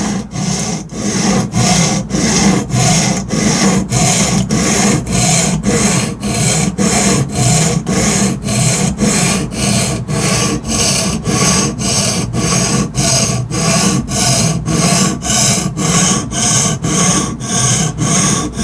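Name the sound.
knife sharpened on Atoma diamond whetstone with guided sharpener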